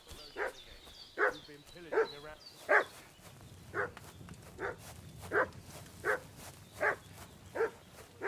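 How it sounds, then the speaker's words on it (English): A dog barks repeatedly in the medieval village of the video game Kingdom Come: Deliverance 2, about a dozen evenly spaced loud barks over a low ambient background. "What's that dog making such a fuss about?"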